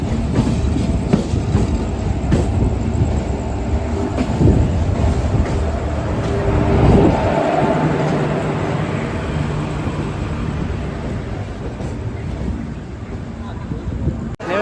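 A loud, low rumble of a train at Howrah station platform with clanking and rolling noise, wind buffeting the microphone, and voices faintly mixed in.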